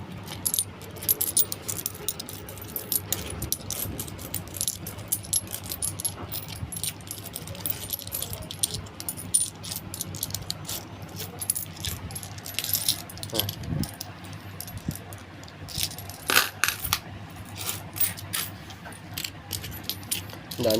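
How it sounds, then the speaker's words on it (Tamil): Coins clink and jangle as they are sorted by hand, with ₹5, ₹2 and ₹1 coins picked out of an old collection in a steady scatter of close metallic chinks over about twenty seconds. "அதுக்கப்புறம் ₹2 காயின் பொறுக்கணும்."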